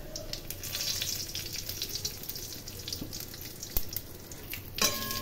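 Cumin, nigella seeds, dried chillies and a bay leaf fry in a little oil with a busy crackling sizzle and a few sharp pops and clatters near the end, close by and with no talking.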